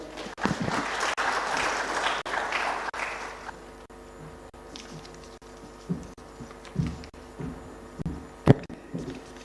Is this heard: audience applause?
yes